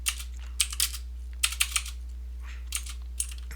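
Computer keyboard typing during a Microsoft Excel data-entry session: several short, uneven bursts of crisp key clicks, close and fairly quiet, over a steady low electrical hum with no speech.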